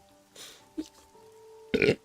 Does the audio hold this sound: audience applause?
no